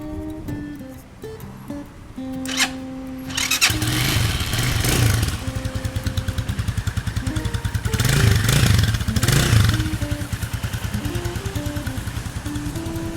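A 2020 Stallion SM250 motorcycle with about 3,000 km on it starts and idles close by, its single-cylinder engine thumping in a rapid, even rhythm with a couple of throttle blips.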